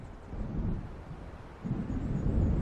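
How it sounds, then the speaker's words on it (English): A thunderstorm in the game Alan Wake gives a low, rolling rumble of distant thunder that swells in two waves and grows louder toward the end, over a soft background wash. "It seems there's a storm coming."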